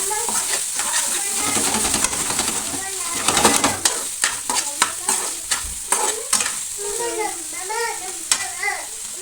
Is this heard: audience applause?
no